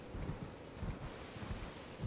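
Horse hooves in Elden Ring, a dull, muffled clopping of galloping strides in a steady rhythm, close but soft, over a windy outdoor ambience.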